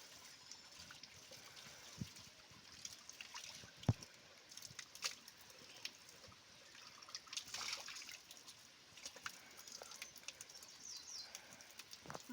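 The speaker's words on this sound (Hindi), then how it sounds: "तल्ली पनहरी पे धो रहे हैं ये बच्चे कपड़े" Water trickles and flows steadily at a mountain spring where children wash clothes, a soft continuous wash of liquid sound with small splashes and knocks, fairly faint and without speech.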